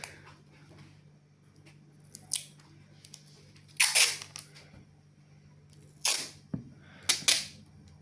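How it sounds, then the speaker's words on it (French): Several sharp ripping bursts of adhesive tape being pulled and cut, spaced irregularly over quiet background hum. "faut que je coupe du scotch"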